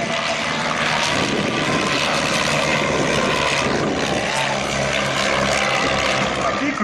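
A wooden biplane with a 140 hp Renault engine flies overhead at an air show, its steady propeller drone loud and continuous throughout, with faint voices underneath.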